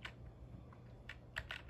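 Computer keyboard keys are tapped during a game of Pong, heard as a few quiet, scattered clicks over a low steady hum, with no talking.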